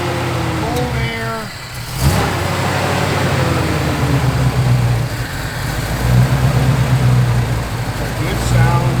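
A 1985 GMC Sierra Classic 1500 pickup's engine runs with a steady, deep, rumbling idle and a brief swell in revs, heard close up under a person talking.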